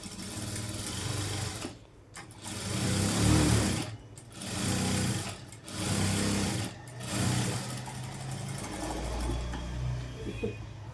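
A sewing machine top-stitches a Punjabi dress, running in steady whirring bursts of a couple of seconds with brief stops between, close and moderately loud with no voices.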